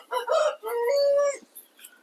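Laying hens on a poultry farm cluck and call nearby in a few short bursts, with one drawn-out vocalization in the middle, fairly clear with nothing else around.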